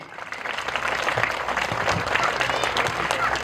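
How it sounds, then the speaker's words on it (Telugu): An audience at a school Sankranthi celebration breaks into clapping, dense applause that swells in the first second and holds steady and loud, with voices audible among the claps. "ఒకసారి మేడంకి గట్టిగా క్లాప్స్ కొట్టండి."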